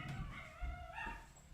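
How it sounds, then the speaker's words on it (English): A pet dog lets out faint, whiny yipping barks in the background indoors, a brief distant vocal outburst at low volume. "if you hear all that jibber jabber, that's my dog"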